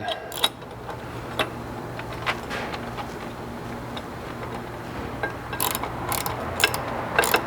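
A ratchet with a 1/2 inch socket and swivel tightens a slider bracket bolt on a Jeep JK Wrangler, giving scattered bursts of close, sharp ratcheting clicks that grow busier toward the end.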